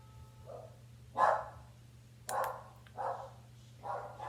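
A dog at home barks in four separate bursts, spaced about a second apart, moderately close against a steady low electrical hum.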